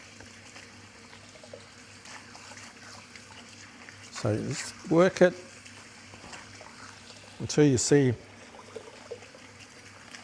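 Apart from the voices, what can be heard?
rice being washed under running water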